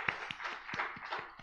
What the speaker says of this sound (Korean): 우리 하나님께 찬양과 영광의 박수를 올려드리겠습니다